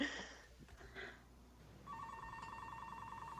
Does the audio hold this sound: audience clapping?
no